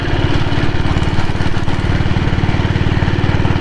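A 1998 Royal Enfield Diesel Bullet motorcycle runs close by, its diesel engine hammering out a loud, fast, even chug without pause.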